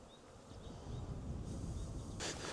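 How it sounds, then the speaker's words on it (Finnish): Honeybees on an early spring cleansing flight buzz around their hive, a faint steady hum outdoors with no one speaking. "Niin kuin näette, niin mehiläiset alkaa heräilemään."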